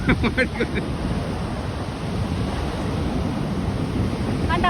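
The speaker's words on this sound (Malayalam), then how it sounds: "പരന്ന തിരമാലകൾ ആരെങ്കിലും കണ്ടിട്ടുണ്ടോ" Waves wash onto a seashore in a steady, broad rush of surf, with wind buffeting the microphone throughout and a short burst of sound near the start.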